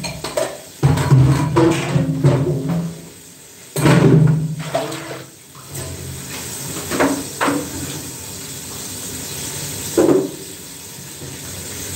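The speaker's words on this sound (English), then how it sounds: "I'm gonna wash up these dishes." Tap water runs and splashes while dishes are washed in an outdoor cooking setting, a rushing flow in bursts with clatter, loud and close.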